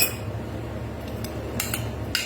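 A spoon mixing batter in a bowl, with soft scraping and a few sharp metallic clinks against the side over a quiet background.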